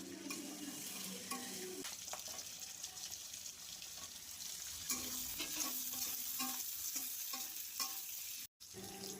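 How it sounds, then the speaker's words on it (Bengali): Capsicum and onion pieces sizzle steadily in a frying pan while a spatula stirs them, with intermittent scraping knocks over a constant hiss and a brief cut near the end. "তার মধ্যে ক্যাপসিকাম দিয়ে নেড়েচেড়ে পেঁয়াজের টুকরোগুলো দিতে হবে"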